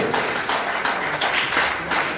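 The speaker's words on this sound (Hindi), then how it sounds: "एक बार ताली बजते रहनी चाहिए।" An audience applauding at a Bihar election rally, steady crowd clapping throughout, moderately loud and continuous.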